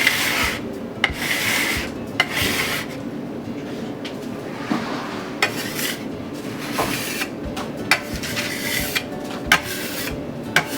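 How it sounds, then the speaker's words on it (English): A metal dough cutter scraping across a kitchen prep station, a run of raspy scrapes and sharp clacks and taps at an uneven rhythm, close and fairly loud, with no voices. "grab a pastry cutter, or not a pastry cutter, a dough cutter, and just scrape it all off your station"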